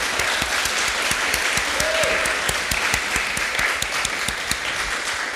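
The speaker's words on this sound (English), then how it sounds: "So can we just give a big round of applause to all the founders?" Audience applauds startup founders at an accelerator prize event, with sustained crowd clapping and a few sharp, close individual claps standing out throughout.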